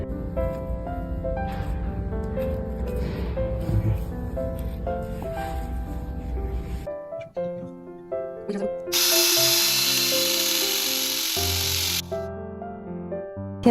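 A hydraulic crimping tool works on a tin-plated, single-hole copper cable lug, giving a steady motorized drone that stops, then a loud hissing burst for a few seconds, all under background music with a voice talking over it.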